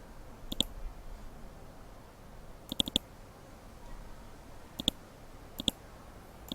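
A computer mouse clicks in crisp single and double clicks, scattered irregularly against a quiet room hum.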